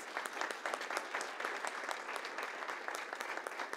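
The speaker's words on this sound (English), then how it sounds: "And can we give them a round of applause, please?" A crowd applauds event organisers at a First Friday gathering, a steady, dense round of clapping from many hands holding level for the whole stretch without any voices.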